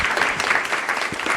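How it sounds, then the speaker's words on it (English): Brief, fairly loud applause from an audience at a cultural capital talk, many hands clapping at once for the panelists in a continuous, dense patter. "Please, let's give a round of applause for all of our panelists"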